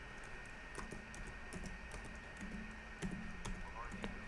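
A computer keyboard clatters with quick, light keystrokes in uneven bursts, fairly faint, alongside a voice talking in the room.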